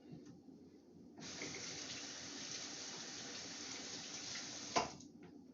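Water runs from a kitchen tap as potatoes are rinsed. After a brief quiet start it flows as a steady, moderately close gush, with a small knock near the end.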